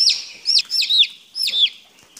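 Young broiler chicks of the Ross 308 breed, placed under a foster hen, give shrill, repeated peeping calls in quick bursts, close and clear, with no talk over them.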